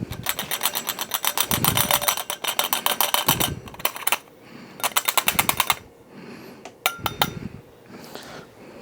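A home espresso burr grinder, the Bezzera Crema DE, grinds coffee into a portafilter in rapid buzzing bursts, with pauses between them and light metallic taps and clinks.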